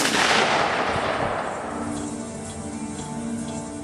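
A single loud rifle shot cracks at a shooting range and then rolls away in a long, fading echo.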